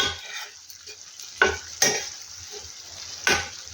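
Thick egg curry gravy spooned over eggs in a hot pan, a soft low sizzle broken by a few sharp scraping clinks of the spoon against the pan.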